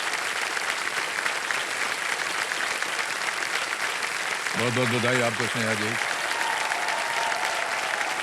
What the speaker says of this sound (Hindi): चेक आ गया आपके नाम और जोरदार तालियां बजते रहें प्लीज।